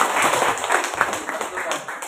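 An audience at a community gathering with the Remontado/Dumagat people in Angono, Rizal claps together in quick, uneven bursts, with voices mixed in under the clapping.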